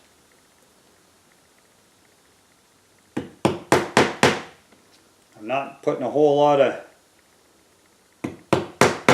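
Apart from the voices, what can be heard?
hammer tapping nails into wood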